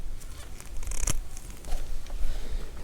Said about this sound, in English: Take this wire and cut off the ends.